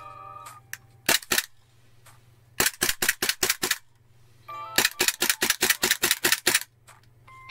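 Gas blowback toy Glock pistol, a cheap Chinese replica fitted into a Nerf-style carbine, firing in three rapid strings of sharp cracking shots with slide clacks, each burst of several evenly spaced reports separated by short pauses over a steady low hum.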